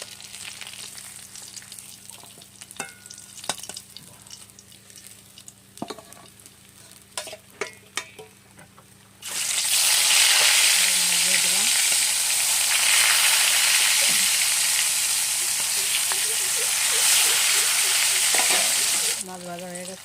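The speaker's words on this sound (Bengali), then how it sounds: "দেখো মাছ কত সুন্দর লাল লাল করে ভেজে নিয়েছি" Tilapia fish frying in oil, first quiet with scattered clinks and scraping, then a loud, steady sizzle bursting up about halfway through and continuing almost to the end.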